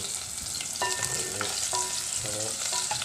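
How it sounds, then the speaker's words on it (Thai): Stir-frying in a pot: a steady hiss of sizzling oil with intermittent scraping and clinking of a utensil against the pot, close and alone. "ผัดลงไปใน หม้อ ไม่ใช่ในกระทะ กระทะหรือหม้อเนี่ย แล้วก็ผัดให้หอมก่อน"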